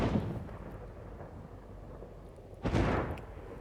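A rumbling thunder effect from Braid: a low roll fades out slowly at the start, then a sharp, loud crack of thunder lands near the end. No voices are heard.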